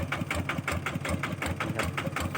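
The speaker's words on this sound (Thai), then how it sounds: "เครื่องมันร้อนแล้วมันก็จะหอบประมาณนี้" A hot engine idles close by with a rapid, steady chugging pulse, rough and throbbing, with no voices.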